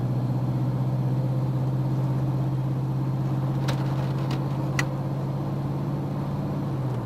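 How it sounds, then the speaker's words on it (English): Steady mid-pitched engine drone from a car with a 4L60E automatic transmission making light-throttle upshifts, a continuous close hum with slight tonal changes and a few brief clicks partway through. "Start with some light throttle upshifts and feel for the 1-2, the 2-3,"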